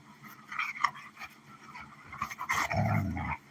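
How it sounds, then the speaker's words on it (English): Dogs play fight up close, with panting, yips, whimpers and low growls coming in irregular bursts that build into a louder rough scuffle near the end. "All the dogs are going to play for a little while."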